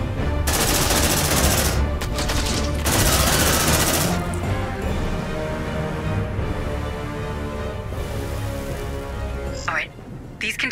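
Sustained gunfire in the sci-fi game Aliens: Dark Descent, with loud, continuous automatic bursts and fusillades stopping and starting several times, heavy and close, over voices shouting in the background.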